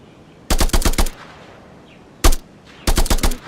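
AK rifle fired in a video game: two loud close bursts of rapid automatic fire with a single shot between them, separated by short pauses.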